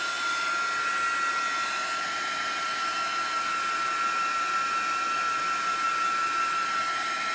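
A handheld heat dryer blows over a craft project, a steady, loud whirring rush with a constant whine that continues unbroken throughout, with no talking.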